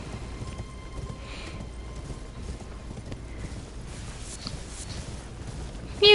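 Horse hooves clip-clopping past in the Elden Ring video game, a steady run of hoofbeats at moderate level over ambient game sound, with a brief louder burst at the very end.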